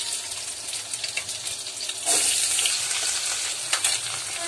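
Onions and curry leaves drop into hot oil for a South Indian fish curry, giving a steady close sizzling hiss that swells into a louder burst of frying about halfway through, with no talk.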